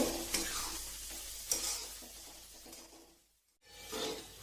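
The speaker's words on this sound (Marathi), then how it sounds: "आता आपल्याला हे छान परतून घ्यायचं आहे।" A ground masala paste of coconut and curry leaves is sautéed in a pan for brinjal bharit, with a close, steady sizzle and stirring scrapes that fade briefly to near silence before resuming.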